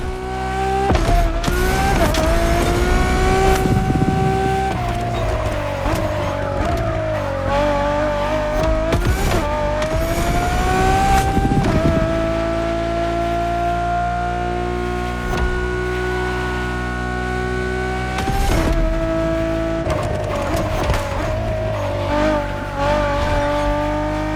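A Ferrari Enzo V12 screams through the gears in The Crew Motorfest, rising in pitch with each gear and dropping sharply on each shift, with brief tire squeal, loud and close throughout.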